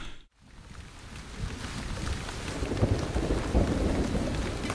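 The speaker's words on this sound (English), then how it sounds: "In May, the rains came." Steady heavy rain hisses and patters on surfaces, with low thunder rumbling through it and swelling louder toward the end after a brief dip at the start; no voices.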